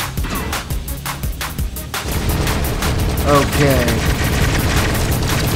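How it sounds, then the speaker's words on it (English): Missile explosions and weapon fire from the mech combat video game War Tech Fighters, a dense run of loud booming blasts and rapid shots that swells after the first two seconds, with a man's brief speech over the top. "Let's get those missiles in there"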